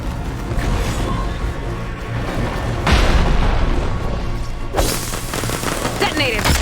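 An explosion detonating in Horizon Forbidden West: Burning Shores, with heavy booming blasts over a constant rumbling battle din, one sharp burst near the middle and another loud one toward the end.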